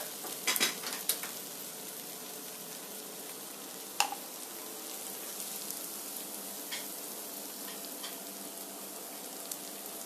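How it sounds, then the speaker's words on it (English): Onions and tomatoes frying in a pan on a home stove, a continuous soft sizzle with a few sharper clatters of the stirring spoon early on and one knock midway, no speech. "Remember to stir your onions and tomatoes."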